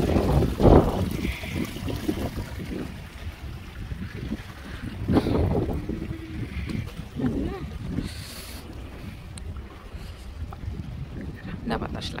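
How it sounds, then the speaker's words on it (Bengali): Falling water splashes and trickles steadily outdoors in Antalya, a continuous rushing wash with a breezy background, while people talk over it. "আর এই পানির আওয়াজটা শুনেন, পানিগুলা পড়তেছে, কি সুন্দর।"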